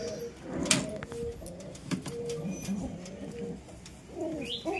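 A sick pigeon with a twisted neck coos in low, rolling phrases, repeated several times at close range over faint background clicks and rustling.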